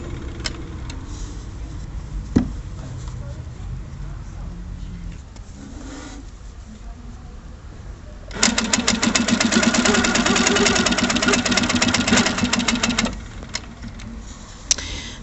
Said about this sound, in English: you can hear obviously Trustitch speeding up, slowing down according to how fast Kathy moves that fabric